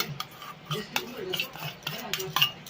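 Milk and sugar being stirred in a pot while making sweet curd, a spoon scraping and clinking against the metal in irregular strokes, close and fairly quiet, with no one speaking.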